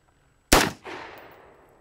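A single sharp, loud shot from an AR-15 heavy-barrel rifle outdoors, followed by a brief echo that decays over about a second.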